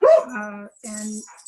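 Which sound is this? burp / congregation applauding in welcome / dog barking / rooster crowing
dog barking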